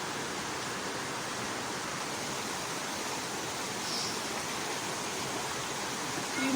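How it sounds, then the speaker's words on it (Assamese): Rupohi waterfall in Dhemaji, where the Subansiri river drops from the hills, gives a steady broadband rushing roar of falling water, constant and unbroken throughout. "নদীখন পৰি আহিছে ঝৰ্ণা হৈ সোৱণশিৰি নদীখন ভৈয়ামলৈ পৰি আহিছে"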